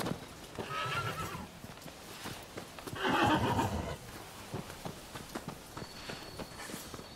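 A horse in the video game Rise of the Ronin whinnies twice in short bursts over the light clip-clop of hooves walking nearby, fairly quiet.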